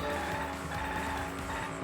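Video game car driving on a narrow road, a steady engine drone with tire squeal and skidding running continuously through the short stretch, alone with no talk.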